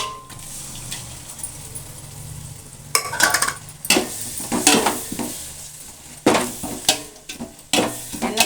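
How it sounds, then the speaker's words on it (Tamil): Ginger and garlic paste with masala stirred in hot oil for a 1 kg biryani, a steady sizzle broken by loud bursts of spatula scraping against the pot, clustered in the second half; no voices. "எண்ணெய் பிரிஞ்சு வர அளவுக்கு கலரிக்கலாம்."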